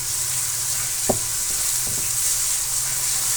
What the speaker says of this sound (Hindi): और इनको हमने भून लेना है